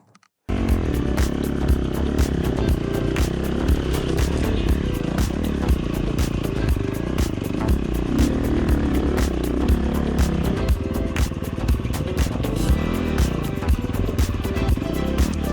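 A motorcycle fitted with a Tokyo Mods Vortex ECU rides in a lower gear, its engine droning loud and close with constant wind buffeting and rattling clatter after a brief quiet start.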